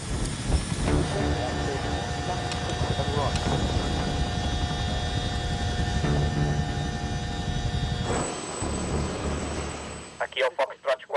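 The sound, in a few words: aircraft engine during pre-flight and taxiing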